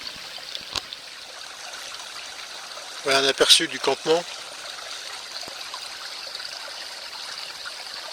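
A small mountain stream flows beside a campsite, giving a steady, soft rushing wash throughout, while someone briefly speaks over it partway through.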